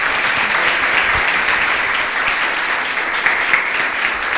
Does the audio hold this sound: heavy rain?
no